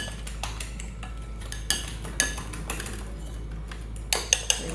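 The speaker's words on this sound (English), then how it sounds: "you can take a whisk, you can take a fork and just whisk everything together" A fork whisks a batter mixture in a bowl, making quiet, close clinks and scrapes with a few sharper taps against the sides.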